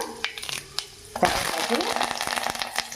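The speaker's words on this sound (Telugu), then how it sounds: "ఎర్రగా వచ్చేదాకా వేపుకోవాలి" Tempering for cucumber dal (dosakaya pappu) sizzling in hot oil, a crackling fry that surges sharply partway through and keeps hissing steadily with small pops.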